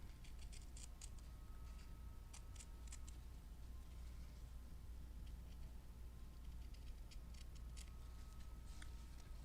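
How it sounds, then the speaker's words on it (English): Scissors snip through fabric while cutting leaf shapes out along a printed edge, giving faint, quick clusters of small clicks against a quiet background hum. "I'm just gonna follow the edge of the print and cut out the leaf exactly as it is here in the fabric"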